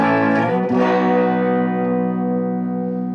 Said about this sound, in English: So 65 Deluxe reverb, which is this.